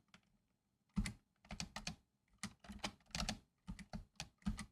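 Someone types on a computer keyboard in irregular bursts of sharp, close keystrokes separated by short pauses, with no talking.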